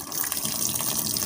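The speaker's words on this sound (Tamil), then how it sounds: "தண்ணி திறந்துட்டேன்" Steady, loud rush of tap water pouring into a MarQ washing machine, a continuous close splashing flow with no voices.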